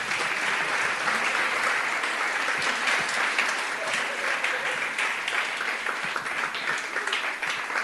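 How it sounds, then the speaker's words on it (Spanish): A church congregation applauds for a sustained stretch, dense steady clapping at even loudness from start to end with no voices over it. "Denle un aplauso al Eterno que es fiel y bueno."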